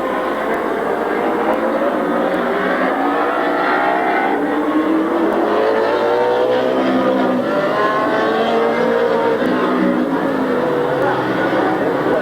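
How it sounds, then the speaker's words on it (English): Race cars roar around Midvale Speedway during a 1994 race, a loud, continuous engine drone with shifting revs as cars pass, and a crowd and announcer faintly under the noise. "Mike Miller, Rob Swindell, Greg Buelley, and Jim Rambud out there racing"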